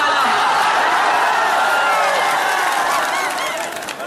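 Unruly crowd at a Mahima Chaudhry event, a loud dense roar of many voices with cheering and whistles, steady throughout and fading slightly at the end.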